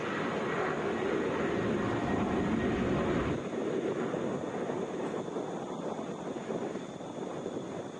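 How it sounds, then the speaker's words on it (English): A Boeing 737 jet at Atlanta airport roars steadily as a broad, distant wash of engine noise that drops slightly partway through and then continues as a softer rumble. "This is Delta 2901 headed to Minneapolis. That's a Boeing 737."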